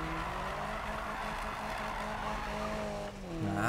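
Nissan Silvia drifting in the Need for Speed (2015) video game: a steady engine roar with long continuous tire squeal, loud and sustained, and a rising engine note near the end, with no voices.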